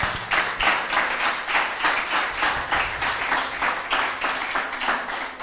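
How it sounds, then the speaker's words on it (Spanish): Church congregation clapping to praise the Lord during a sermon, a loud rhythmic beat of many hands striking together in unison, pulsing steadily about three times a second. "Denle ese fuerte aplauso al Señor"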